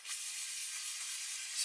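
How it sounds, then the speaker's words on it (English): A steady aerosol spray of rust protectant onto a rag hisses continuously for a moment, broadband and fairly close, with no voices. "spray it on the rag"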